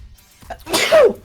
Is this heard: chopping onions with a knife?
no